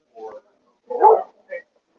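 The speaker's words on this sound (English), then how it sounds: "We got some dogs outside." Dogs barking outdoors on a nice day in Grays Lake, Illinois: three short barks, the middle one longest and loudest, with quiet gaps between them and nothing else heard.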